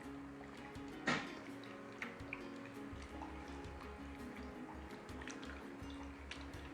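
Sliced potatoes for homemade potato chips being rinsed in a bowl of water, with soft drips, sloshes and a sharp splash near the start over a low background hum, quiet and close.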